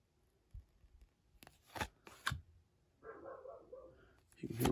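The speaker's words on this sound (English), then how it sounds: "Hear my dog barking." A dog barks from upstairs in a house. The barks come in a few short, muffled bursts, and a person speaks nearby while cards shuffle and rustle close by.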